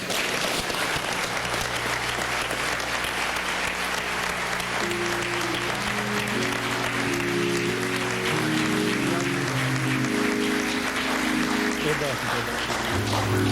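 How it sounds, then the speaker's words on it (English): Sustained crowd applause fills the whole stretch, continuous and loud, with music playing underneath. "please give his family another round of applause."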